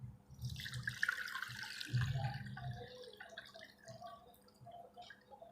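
Water sloshes and drips in a basin, with splashing bursts and trickling as raw potatoes are rinsed by hand, close and moderately loud.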